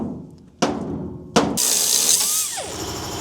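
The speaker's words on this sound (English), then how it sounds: "we're grinding these and pulling and chiseling them up" Blazer body mounts being worked off with a power grinder and chisel: two sharp metallic impacts, then a loud sustained grinding whine that wavers in pitch, close up with no talk.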